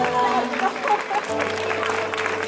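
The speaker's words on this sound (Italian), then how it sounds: "Un applauso al coro un po' più forte" A church congregation applauds the choir at the close of an Italian service, a moderate patter of clapping in a reverberant hall with a low sustained tone underneath.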